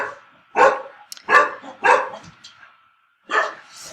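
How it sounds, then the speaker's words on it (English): A dog barks loudly and close by, three quick barks in a row, then a pause before one more bark. "as you can hear by the dogs barking."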